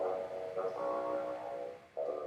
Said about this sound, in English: And this is the bassoon. So this is the grandfather.